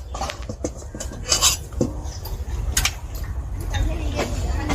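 A metal kadai clanks down onto a stove during mango-pickle making, with several sharp knocks and scrapes of cookware heard close by under a speaking voice.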